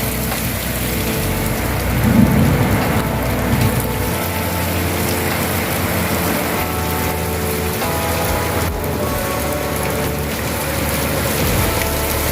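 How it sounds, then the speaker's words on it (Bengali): Heavy rain pours steadily onto a rooftop in Bengal during a storm, with a dense continuous hiss and a low rumble early on that suggests thunder, with no voices. "এই দেখো কিরম বৃষ্টি হচ্ছে।"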